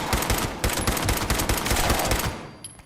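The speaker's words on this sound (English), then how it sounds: "Just blindly shooting does not work." Rapid gunfire from Fallout 76 rattles in a fast, evenly spaced automatic stream of loud close shots that tapers off near the end.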